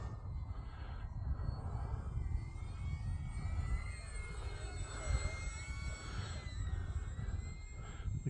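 An Arrows Bearcat RC model airplane flying at a club field, a faint continuous electric whine with pitch sweeps as it passes overhead, set against steady outdoor noise, with no talking.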